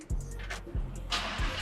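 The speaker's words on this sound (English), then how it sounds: "let me just start this car up." A Lamborghini Huracan on a cold start gives three sharp, loud low engine pulses at even intervals, with a whining hum between them, close to the car and with no one speaking.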